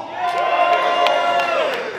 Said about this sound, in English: Can I get a fucking cheer or what?